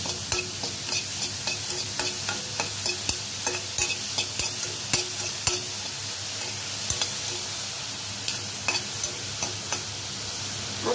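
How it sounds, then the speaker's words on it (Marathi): Mushrooms stir-fried with onion and green chilli in a pan give a steady close sizzle with frequent scraping spatula strokes against the pan throughout. "आपण आता त्याच्यामध्ये मशरूम टाकू। मशरूम टाकून मिक्स करू।"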